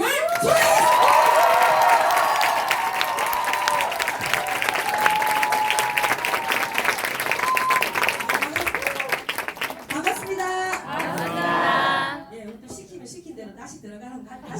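An audience at a business seminar bursts into loud, sustained applause with some cheering, while an amplified voice and music run underneath; the clapping thins and drops away near the end.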